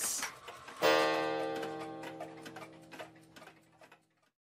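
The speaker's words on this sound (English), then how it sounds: "There are 20 clocks." Clocks tick in a quiet room, a bright struck onset followed by overlapping ringing tones and soft repeated ticks that fade over a few seconds, with no voices.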